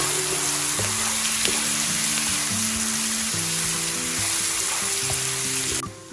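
Sliced jalapenos fry in a pan with a loud, dense, steady sizzle right up close, unbroken for several seconds before it drops away sharply, while quiet music plays underneath.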